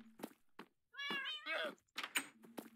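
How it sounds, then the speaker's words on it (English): Cats meowing in the Minecraft survival game, a few clear, tonal meows in quick succession over soft game thuds and background noise. "And then I have some kitty cats."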